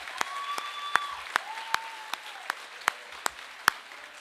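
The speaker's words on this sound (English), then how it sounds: "Let's give them a round of applause, even though they're unable to be here" A graduation ceremony crowd claps for absent graduates, sparse, evenly spaced claps ringing out one by one in a large hall while a faint whistle-like tone drifts underneath.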